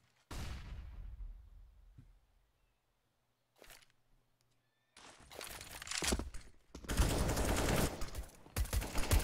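Pistol fire in a Counter-Strike match on the Inferno map, with a burst of shots, a quiet pause, then dense rapid gunfire rising to loud sustained volleys near the end.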